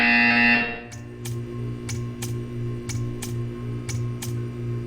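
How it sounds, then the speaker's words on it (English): A video game buzzer blares loudly for about half a second, then cuts off, leaving a low steady hum punctuated by a regular series of short clicks or ticks. "You will hear a buzzer."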